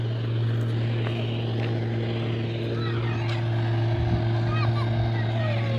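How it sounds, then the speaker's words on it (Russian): A motorboat out on a river near a holiday camp, a steady, loud engine drone with a propeller hum dominating, heard continuously from a distance outdoors. "Там катаются на катере."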